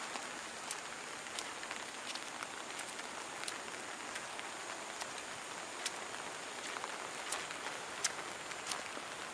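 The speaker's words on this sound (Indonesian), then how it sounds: "Nggak ada sinar matahari, hujan semakin deras." Heavy afternoon rain pours steadily over a village, a dense, even wash with scattered sharper drips and taps close by, and no voices.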